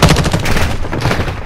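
Gunfire in Warzone 2, a rapid burst of loud, close shots in quick succession fading toward the end, with no talking.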